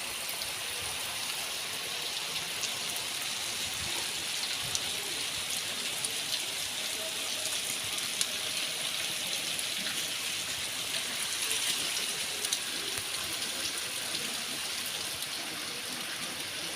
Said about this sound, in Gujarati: જો અમારા ગામમાં વરસાદ ચાલુ થઈ ગયો છે